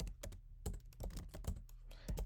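Terminal commands typed on a computer keyboard in a Linux setup, a quick irregular run of close, crisp key clicks and taps with brief pauses between bursts.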